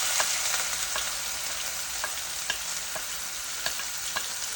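Onions hit hot oil with whole spices and fry with a dense, steady sizzle, punctuated by regular light clicks and scrapes of stirring.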